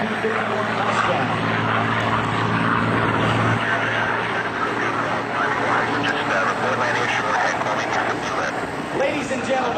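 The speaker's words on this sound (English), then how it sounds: "kicking off here is Dale Snodgrass in the P-51 Mustang." A P-51 Mustang propeller fighter flies a display at a joint services open house air show, its engine a loud, steady drone throughout while an announcer talks over it.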